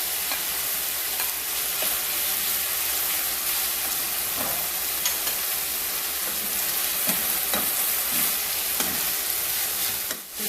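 Shrimp fry in a pan for fresh lumpia filling with a loud, steady sizzle and hiss throughout, punctuated by repeated scraping clicks of a spatula stirring, close and with no talk.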